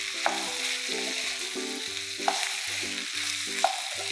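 Coriander and curry leaves stirred into Kerala-style coconut chicken fry in a pan, with a steady close sizzle of frying and a few sharp scrapes of the spoon against the pan.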